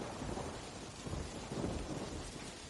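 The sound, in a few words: heavy rain and thunder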